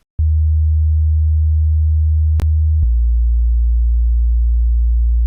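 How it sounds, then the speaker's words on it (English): A deep, steady synth sub bass drones loudly, with a couple of sharp clicks as the pitch shifts, then holds one low tone to the end. "we got this sub bass that goes on here"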